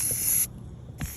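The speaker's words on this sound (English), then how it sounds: "I used black matte spray paint to paint my sign" Black matte spray paint hisses from an aerosol can onto a Dollar Tree sign outdoors, one bright close burst that stops abruptly, then a short second spurt starts after a pause.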